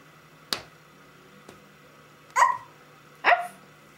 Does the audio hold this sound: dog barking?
yes